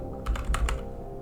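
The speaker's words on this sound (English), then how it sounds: "Hit the 5 button on your keyboard." Three or four quick computer keyboard key presses click softly in a short burst while playing an army men real-time strategy game.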